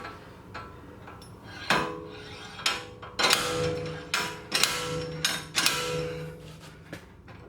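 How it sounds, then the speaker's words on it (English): A slide hammer yanks on the front wheel bearing hub of a Mercedes C300 4Matic, giving about eight sharp metallic clanks at uneven intervals, each with a short ringing tail, close and fairly loud in a quiet garage. "I'm gonna try just slide hammering it from there"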